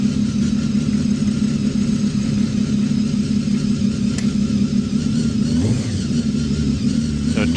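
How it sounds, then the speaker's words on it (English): A 2-litre V8 hill climb car, built from two motorbike engine blocks on a common crankcase, roars continuously at a hill climb event, holding a loud, dense engine drone throughout with small rises in pitch and no voices. "So a 2-litre V8."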